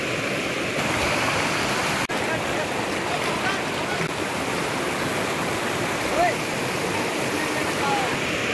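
A mountain stream and waterfall send out a constant loud, broadband rush of flowing water, steady throughout, with faint voices in the background.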